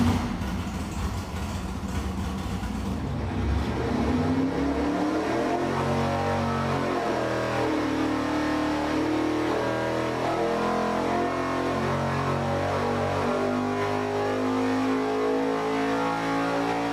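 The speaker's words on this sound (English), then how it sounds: "Let's show them again what this engine makes for power." A powerful engine on a dyno revs hard, its pitch sweeping upward before holding at a loud, sustained high-rpm roar for a long, steady pull.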